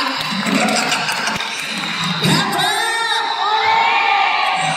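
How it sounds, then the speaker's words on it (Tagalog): Audience at a year-end school party claps, cheers and whoops loudly, with children's shouts rising over a steady crowd roar throughout. "Palapakan naman po natin."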